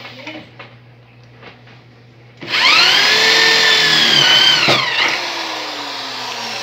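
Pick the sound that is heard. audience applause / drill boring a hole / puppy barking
drill boring a hole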